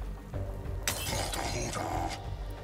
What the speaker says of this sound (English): I'm actually gonna try to use the glass bottle.